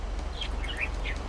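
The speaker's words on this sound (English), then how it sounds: "Why do I keep hearing birds?" Birds chirp faintly in the GTA V game world, a few short high tweets over a low steady background hum.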